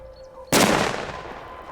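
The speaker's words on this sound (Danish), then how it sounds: "Det, der sker, det er, at vi kaster et kanonslag." A thunderflash firecracker bursts during Danish special forces training: one sudden, loud blast that cuts through quiet outdoor ambience, then a long rumbling decay.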